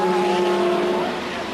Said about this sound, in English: Michele Alboreto scorches round in the Ferrari